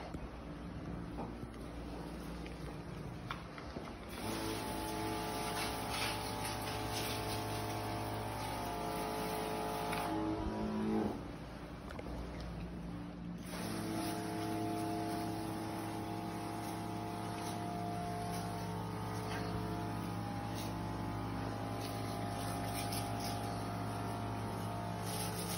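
VANTOOL powered sprayer runs with a steady, continuous motor drone and hiss, loud and close, with a brief dip partway through before it resumes at a constant pitch.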